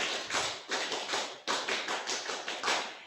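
Rhythmic scout clapping, tepuk pramuka, by children at a scouting workshop, sharp claps grouped in a repeating pattern with short pauses between phrases, near and unaccompanied by talk.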